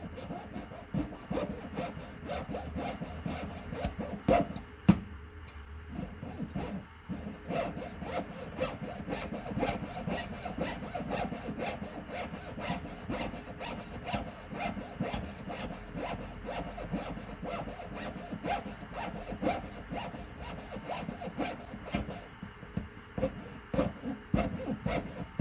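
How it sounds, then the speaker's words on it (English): A jeweler's saw cuts through sterling silver with fast, steady back-and-forth rasping strokes, close and continuous, with a few brief pauses and no talking. "So now we're going to go ahead and cut it off. I'll use my jeweler's saw."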